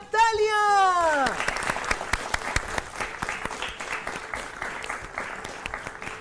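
A studio audience on a quiz show for kids breaks into sustained applause right after a voice finishes speaking, and the dense clapping continues steadily to the end.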